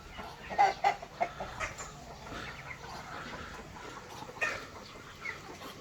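Chickens cluck in a mixed flock kept together with ducks and rabbits in Laos, a few short clucks near the start and another burst later, moderately close over a faint outdoor background.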